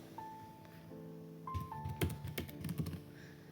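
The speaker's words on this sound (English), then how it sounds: "Now I'll type the code to convert the duration into distance." Code being typed on a computer keyboard for an Arduino vehicle crash prevention project, with quiet, close key clicks coming in quick irregular bursts over a faint steady hum.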